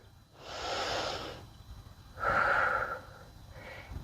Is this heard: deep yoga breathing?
yes